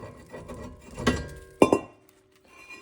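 A hammer strikes a rusty brake rotor to knock it loose, giving two loud, sharp metallic bangs about half a second apart with a short ring after each, then quiet.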